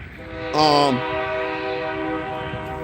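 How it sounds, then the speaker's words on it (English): A passing train sounds a short, loud horn blast of about half a second, its tone sliding slightly, followed by a lingering lower rumble and faint tonal hum. "Train."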